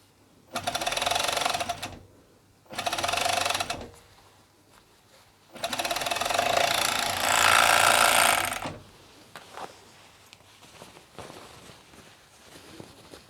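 An overlocker runs in three bursts as it sews ribbing cuffs onto a hoodie: two short whirring runs, then a longer one that speeds up, each followed by quiet handling noises.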